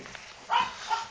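A thin, skinny dog gives two short, sharp barks or yips, close by, over a faint background hum.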